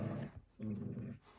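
Dogs growl and whimper in two close, low rumbling bursts separated by a brief pause.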